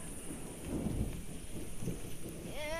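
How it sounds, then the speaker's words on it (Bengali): Steady rain falls outdoors during a storm in Bogura, with low rumbling thunder rolling underneath, fairly faint and continuous. "এই দেখেন বৃষ্টি হচ্ছে, ওই দেখেন মেঘ ডাকছে কিরকম করে"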